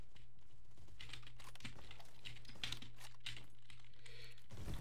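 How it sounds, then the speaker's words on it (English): Rapid, continuous clacking of computer keyboard keys being typed on, fairly close and steady throughout, with a low constant hum underneath and no voices. "You may be able to actually hear my keys clackety clacking."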